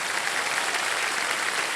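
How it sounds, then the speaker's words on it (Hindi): Studio audience applauding on a televised quiz show, a dense steady wash of clapping that stays even for the whole brief moment with no talking. "और तालियां बज जाए इनके लिए।"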